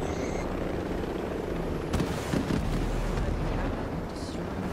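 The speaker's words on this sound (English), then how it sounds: "Shoot the helicopter." Steady thumping rotor drone of a helicopter in Ghost Recon Breakpoint, fairly loud and continuous, with a few brief bursts of noise layered on top.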